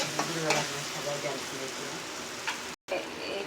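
Tomatoes with a little tomato sauce sizzle and crackle in a hot pan while noodles are cooked at home, a steady close hiss with occasional stirring clinks, interrupted by a brief cut.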